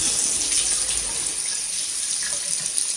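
A bathroom faucet runs steadily while dye is rinsed out of a beard, giving an even, close rush of water that lasts the whole time with no talking.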